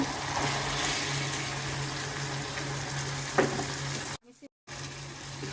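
Broad bean seeds frying in a spice masala for a rohu fish curry make a steady, close sizzle with occasional stirring sounds and a low hum underneath, briefly cut off near the end.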